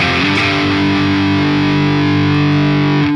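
Electric guitar played through the Neural DSP Archetype Misha Mansoor amp simulator, a loud, dense, distorted sustained chord ringing steadily for about three seconds with no talk.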